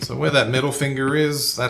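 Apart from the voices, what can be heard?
No everyday noises stand out.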